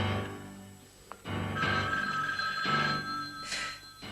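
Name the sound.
telephone ringing during a call in the film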